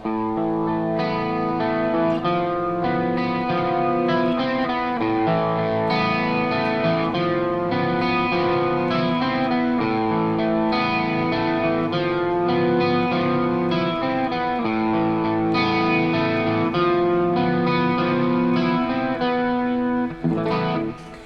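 An electric guitar riff with a shimmering chorus effect rings out steadily, notes sustaining and overlapping for about twenty seconds with no talking.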